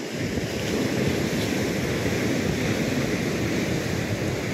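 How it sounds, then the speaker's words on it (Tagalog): Mediterranean Sea waves wash onto the shore in a steady, close surf roar, with wind buffeting the microphone throughout and no pauses. "Patatahimikin lang natin yung alon."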